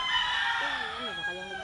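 Chickens cluck and warble close by over a steady outdoor hum, with a few rising and falling bird calls.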